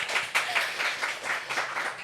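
A small group claps briefly in a podcast studio, with quick uneven hand claps filling about two seconds at close range and no talking over them.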